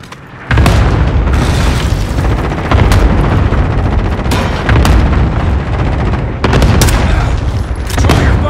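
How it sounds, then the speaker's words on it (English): Cluster strike explosions in a video game: a continuous barrage of loud, close booms and blasts rolling together, with several sharp bursts standing out across the stretch. "Cluster strike incoming."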